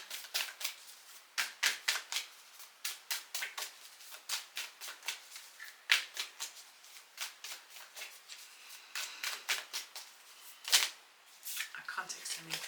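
Oracle cards from a Starseed deck are shuffled by hand, giving a steady series of soft, close riffling flicks and slaps with brief pauses.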